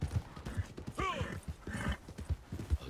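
Horse hooves clip-clop steadily in Red Dead Redemption 2 Online as a larger saddle horse walks along, with a short whinny breaking in near the middle and soft background game sounds throughout.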